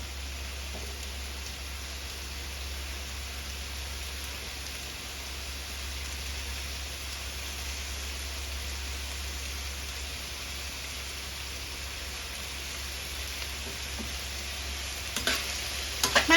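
Udon noodles with vegetables stir-fry in a pan, giving a steady, even sizzle over a low hum, with a few louder scrapes near the end.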